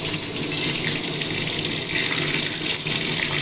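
Water lily stems deep-frying in hot oil over low to medium flame, giving a steady, dense sizzling hiss that stays close and constant throughout with no talk.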